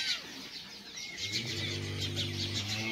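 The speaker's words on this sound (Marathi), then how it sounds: "सुंदर असा पक्ष्यांचा किलबिलाट।" Morning birdsong in a rural village after overnight rain, with repeated bright chirps over a low steady hum, fairly distant and continuous.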